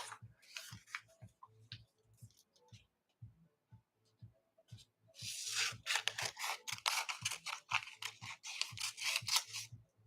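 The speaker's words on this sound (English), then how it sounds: "I'll just cut this in half with my scissors." Scissors snip through clear masking film backed with paper, a run of short crisp cuts that quickens into a dense burst of rapid snipping and rustling partway through, close and fairly loud.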